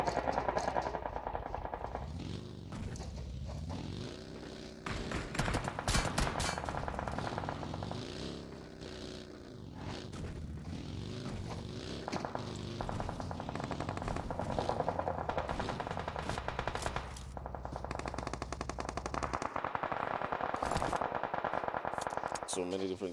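Rapid automatic gunfire in an esports battle royale match at the Nigerian Pro League, crackling bursts over a steady game soundtrack and an excited commentator's voice.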